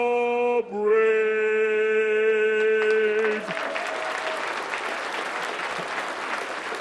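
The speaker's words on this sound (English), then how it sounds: "Another round of applause." Applause from the audience at a Cleveland hall of fame ceremony begins as a sustained tone fades, then a broad, steady wash of clapping continues to the end.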